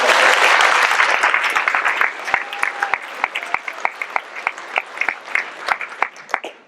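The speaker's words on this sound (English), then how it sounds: "I think that deserves another applause." Graduation ceremony audience applauding, dense clapping at first that thins out into scattered individual claps and fades toward the end, with a brief voice mixed in.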